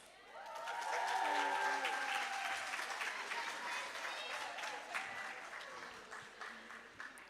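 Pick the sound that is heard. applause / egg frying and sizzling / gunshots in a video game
applause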